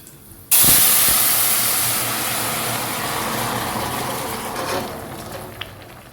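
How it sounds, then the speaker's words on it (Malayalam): Cassava cooking water poured into a hot pan for paal kappa gives a sudden loud burst of hissing steam that sets in abruptly, then settles into a steady, slowly fading sizzle with no voices. "അടുത്തതായിട്ട് നമ്മൾ കപ്പ വേവിച്ച വെള്ളത്തോടുക്കനെ ഒഴിച്ചു കൊടുക്കണം"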